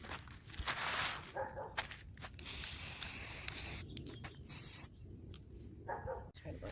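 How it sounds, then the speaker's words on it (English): An aerosol can sprays black paint onto small hooks in several hissing bursts separated by short pauses, quiet and close by, with no talk during the spraying. "So now I'm spray painting it, spray painting the hooks black."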